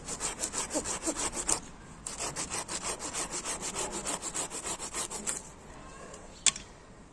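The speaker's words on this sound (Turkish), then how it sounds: "Zaten saksıya sığmayacağı için şuradan testereyle kesiyorum." A hand saw rasps back and forth through a tree root in quick, steady strokes, close by, pausing briefly before resuming, then a final sharp knock.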